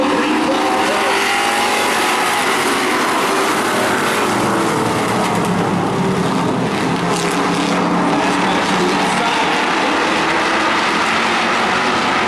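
Pack of short-track race cars at a Maine oval roaring as they take the green behind a pace truck, a loud continuous wall of engine noise with crowd-like wash throughout.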